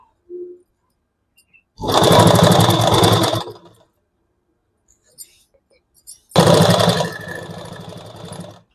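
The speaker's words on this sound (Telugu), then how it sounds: "ఎక్కడ తిత్తులు ముడత రాకుండా అడ్జస్ట్ చేసుకుంటూ కుట్టు వేసుకోవాలి." A sewing machine stitches the lining of a blouse in two close, loud bursts about two seconds each, separated by quiet pauses with small handling clicks, without talk.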